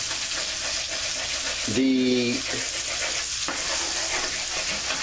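Cabbage fries in bacon fat in a pan, a steady close sizzle with stirring scrapes and a brief tonal clatter midway, while a voice speaks briefly over it.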